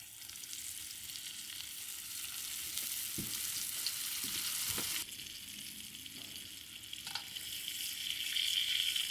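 Chilean sea bass pan-fries skin side down in hot oil, a soft, steady sizzle and crackle that runs continuously, with a few faint utensil taps and a slight swell in intensity partway through.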